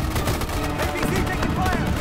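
Gunfire in the MAG video game trailer, a steady clatter of rifle and machine-gun shots amid a thick battle din with shouting voices.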